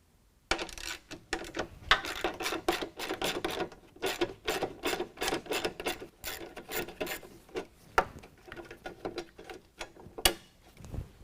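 Four 10mm bolts come off the DEF tank cover of a 2015–2019 Chevy Silverado or Sierra, heard as rapid ratcheting clicks in bursts, with metallic taps and a few clinks of loose hardware, quiet and close.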